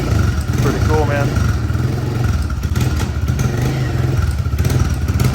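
A Honda CRF125 dirt bike fitted with a BVC fat tire conversion kit idles and revs with a loud, close, chugging engine throughout, with a brief clatter early on and people talking over it.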